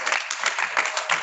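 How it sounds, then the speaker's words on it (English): Brisk audience applause at a service tribute event, many hands clapping together in a lively, fairly close burst. "Applause, please. Applause."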